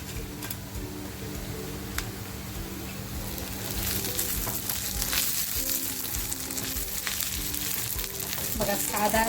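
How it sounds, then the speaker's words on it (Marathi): Onion sizzling and frying in a pan with coconut, garlic and dry spices for a spicy crab curry, a steady close hiss with a few light stirring ticks throughout. "कांदासुद्धा आपला खोबऱ्याबरोबर शिजणार आहे म्हणजे फ्राय होणार आहे"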